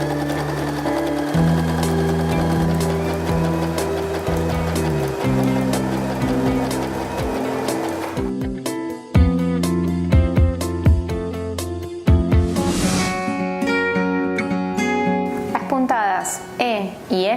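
A model 311 household sewing machine stitches fabric with a steady, loud mechanical whir and rhythmic needle clatter. Its pace shifts partway through, and bright tonal clicks appear toward the end.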